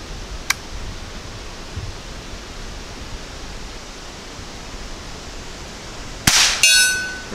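A rifle fires a single round of quiet ammunition outdoors. The report is one sharp, brief crack with a short ringing tail near the end, heard after a long stretch of soft background hiss and a faint click early on.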